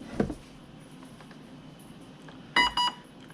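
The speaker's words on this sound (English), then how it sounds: "you're going to listen for it to beep twice." A 200 amp Seal ESC on a Sonic Wake 8S RC boat gives two short electronic beeps near the end, close and clear over a faint background hiss, with a small click earlier.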